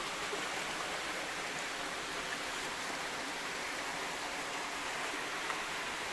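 A steady, full roar of falling water and a rushing stream at Kipot Falls in Culasi, Antique, continuous and close with no pauses.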